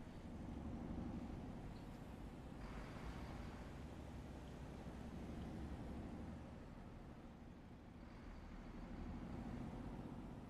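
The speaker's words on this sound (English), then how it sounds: "I hear a nice sounding truck nearby." A truck drives along in traffic in the TruckersMP driving game, its steady engine rumble and road noise holding throughout at moderate distance with no talk over it.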